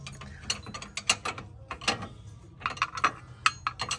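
Ratchet wrench clicking in short irregular bursts while turning a lock nut on a 2000 Dodge Durango steering rack, the metallic pawl ticks close and crisp with brief pauses between strokes.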